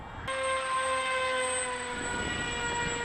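Blunt-nose Teksumo model aircraft flying at half throttle, a steady droning engine whine with strong tonal harmonics that drops slightly in pitch near the end, loud and continuous with no talk.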